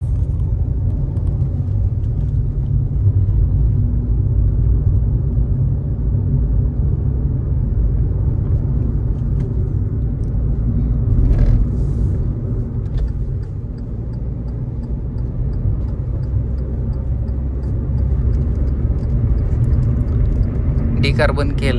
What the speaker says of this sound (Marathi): डिकार्बन केल्यामुळे गाडीचं इंजिन स्मूथ झालं आहे, आवाज कमी झाला आहे